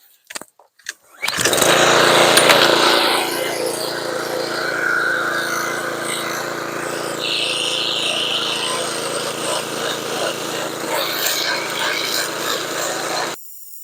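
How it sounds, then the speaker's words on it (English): A gas push weed whacker starts with a few short pulls, then runs steadily and loud up close, its engine note shifting slightly as it cuts through thick weeds near passion fruit vines. "I'll get as much as I can with this push weed whacker"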